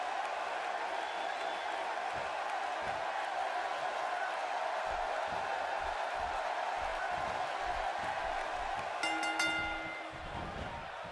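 A wrestling arena crowd at an Impact Wrestling Knockouts title match roars in a steady, dense wash of cheering and chatter, with brief tonal accents near the end as the noise dips slightly.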